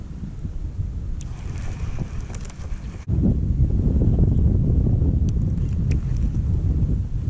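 Wind gusts buffet the microphone outdoors on the water during jig fishing for bass, a steady low roar that rises sharply halfway through and stays loud with no talking.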